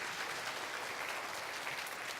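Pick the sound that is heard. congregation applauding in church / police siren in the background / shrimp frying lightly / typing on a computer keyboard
congregation applauding in church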